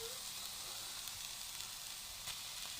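Spinach and egg thoran being stirred in a pan over raised heat to cook off moisture, giving a steady, soft sizzle with faint scraping, alone and without talk.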